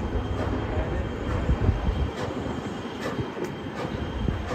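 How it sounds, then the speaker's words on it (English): Strasburg excursion train pulled by steam locomotive No. 89, built in 1910 by the Canadian Locomotive Company, heard from on board as a steady rumble of rolling cars with faint rhythmic clicks of wheels over rail joints. "the locomotive that's pulling our train today is number 89"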